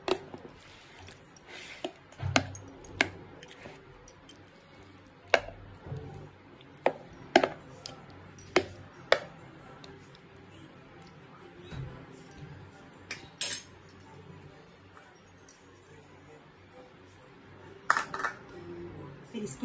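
Chicken and lemon juice are stirred in a bowl, with scattered sharp clinks of a spoon against the bowl and soft wet squishing between them, close and fairly quiet.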